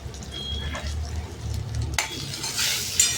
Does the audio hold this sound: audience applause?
no